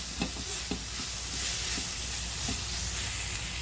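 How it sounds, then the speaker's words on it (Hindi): Chicken frying in a pan with vegetables gives a steady sizzle that runs throughout, with a few soft stirring knocks scattered through it and no voices. "अब हम इसमें डाल देंगे चिकन, और अच्छे से इसको 2 मिनट पका लेंगे"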